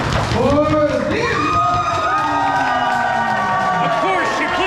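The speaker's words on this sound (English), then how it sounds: "Big applause and make some noise" A crowd at a guacamole contest cheers, whoops and yells for the winner, loud and continuous, with voices rising and falling throughout.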